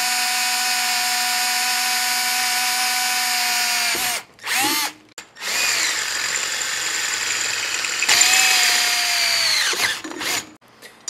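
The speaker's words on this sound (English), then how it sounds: "Drill that hole, baby!" A power drill whines at a steady high pitch while drilling a hole to install a car battery disconnect switch, cuts out briefly, then spins up again and winds down near the end. No talking.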